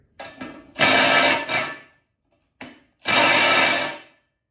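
A cordless power tool is fired up twice while working on an S2000 V8 LS swap, each time giving a loud, close whirring burst of about a second that sputters at the start, with silence in between.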